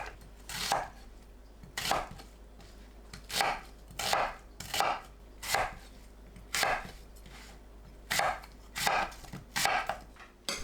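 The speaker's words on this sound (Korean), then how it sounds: "무, 양파, 사과를 믹서에 갈기 좋은 크기로 썰어주세요." Knife chopping radish, onion and apple on a cutting board into pieces for blending, about a dozen crisp close thuds in an irregular rhythm with short gaps, no talking.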